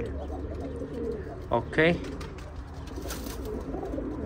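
Pigeons in a loft give a brief burst of throaty cooing under steady background noise, with someone speaking briefly nearby.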